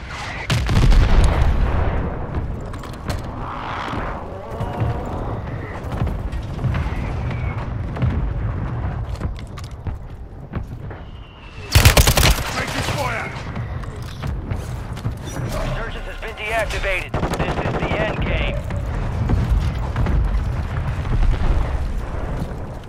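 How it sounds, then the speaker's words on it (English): Heavy mortar strike explosions in a military shooter game, with deep rumbling booms and a sharp loud blast midway, layered over continuous battle noise and creaking mechanisms. "What's that mortar strike near your position?"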